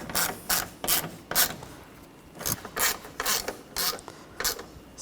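A ratchet clicks in quick repeated bursts while tightening bolts on the brake master cylinder of a 2013–2019 Ford Escape. The bursts are close and rhythmic, with short pauses between them.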